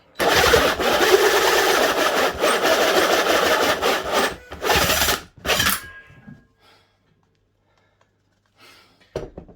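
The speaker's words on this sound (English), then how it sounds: "The drill driver, the impact driver." A drill driver and impact driver whir loudly for several seconds in bursts, then cut off, leaving near silence with a few faint clicks and a final knock.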